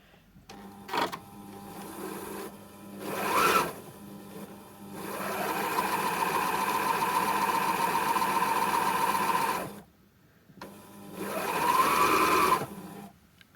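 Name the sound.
Pfaff classic quilt sewing machine running without needle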